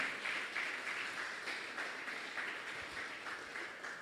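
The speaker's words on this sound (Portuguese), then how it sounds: "Aplauda ao Senhor" Soft, distant applause from a church congregation, a fairly even patter of clapping that fades slightly over a few seconds.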